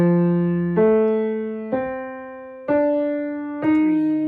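Four piano notes struck one after another at an even pace, each ringing clearly and decaying before the next, forming a simple melody.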